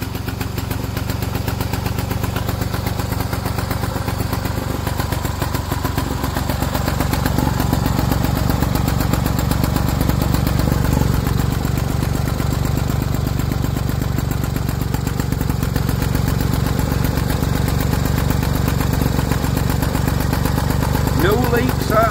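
A Stuart Turner stationary engine runs steadily and loudly at a constant idle-like pace, a continuous mechanical chugging that does not change throughout.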